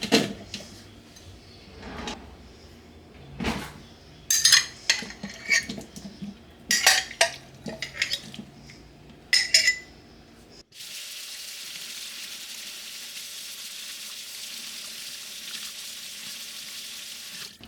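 Water runs steadily into a kitchen sink as chickpeas are strained, a continuous even hiss after a stretch of clattering pots, dishes and handling sounds.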